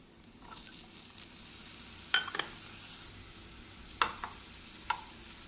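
Chopped capsicum sautéing in a pan over medium heat, a soft steady sizzle with a few sharp clinks and scrapes of a spoon against the pan, close and quiet, no voices.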